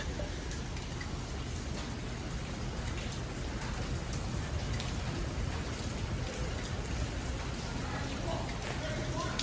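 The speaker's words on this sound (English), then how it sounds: "The rain is coming down really hard." Heavy rain pouring down on a New York City street at night, a dense, steady hiss of drops hitting surfaces, loud and unbroken throughout with no voices standing out.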